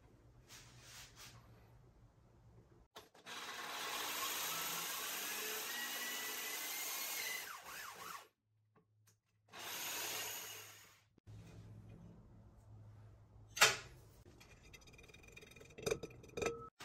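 A drill bit runs steadily through a mini pottery wheel, boring bat pin holes with help from a drill bit guide. The whine lasts several seconds, stops briefly, then starts again, with scraping and knocking near the end.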